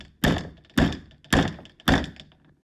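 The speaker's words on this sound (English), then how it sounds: "Suddenly, an unseen force starts pounding at the door" Heavy pounding on a cabin bedroom door: four loud, evenly spaced booming thuds about half a second apart, each ringing briefly before the next, close and forceful.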